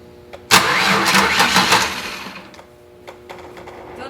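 A 2002 Ford Ranger engine cranks over by a bridged starter with a loud, sudden whirring burst that runs steady for about two seconds, then fades into quieter clicks and faint mechanical noise.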